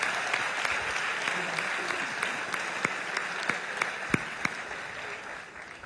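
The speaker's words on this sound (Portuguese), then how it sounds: "As palmas ao Senhor Jesus" A church congregation at a missions symposium claps steadily in a dense, moderately distant round of applause with a few sharper individual claps.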